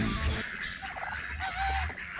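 Ducks quack and honk in backyard pools, a scattered cluster of nearby calls over a low rumble, with no one speaking.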